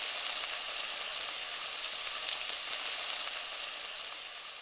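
Beef browning in a hot pan gives a steady, loud, close sizzle that runs unbroken without pause or voices.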